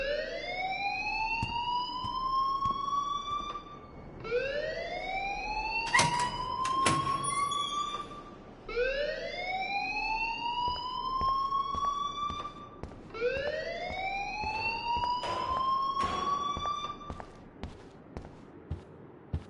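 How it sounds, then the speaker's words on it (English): A rising-and-falling electronic school alarm wails repeatedly in the video game Life Is Strange, each swell climbing in pitch about every four seconds, loud and steady, with a few sharp clanks and brief faint speech beneath. "please turn off that alarm since that's your job."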